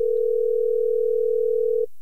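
A steady telephone dial tone holds loud and unbroken for almost two seconds during a repeat call, then cuts off abruptly.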